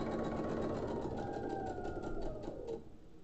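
A sewing machine stitches quilting through wadding in a fast, even mechanical whir, close and steady, slowing and fading near the end.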